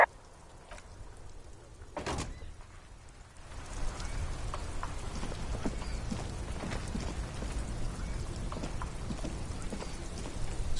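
Rain falls in a video game setting, Disco Elysium, as a steady wash of patter that grows heavier partway through, with a few isolated thuds and knocks early on and no talking.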